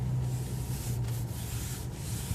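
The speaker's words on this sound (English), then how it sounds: "some wheels sound real loud when you rub your hand across the material" A hand rubbing across a soft leather-wrapped car steering wheel, a quiet continuous brushing friction over a low steady hum of the cabin, faint and close, with no talking.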